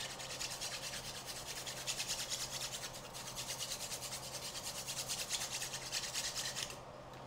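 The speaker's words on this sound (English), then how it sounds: "So we're just gonna keep sanding it just a little bit." Steady rhythmic rasping of a nail file sanding carbon fiber, close up, quick back-and-forth strokes continuing without pause for several seconds, no voices.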